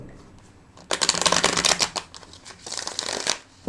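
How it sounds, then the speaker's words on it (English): A deck of tarot cards is shuffled and riffled close by, with two dense bursts of fluttering, snapping card noise and a short pause between them, and no voices. "I'm going to shuffle and rifle"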